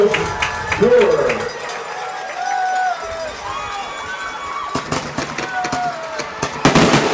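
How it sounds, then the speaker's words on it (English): Fireworks go off at a high school football game between Malvern and Lake Hamilton after a touchdown, sharp bangs and crackles from a distance mixed with crowd noise and a commentator talking over them. "And the fireworks celebration."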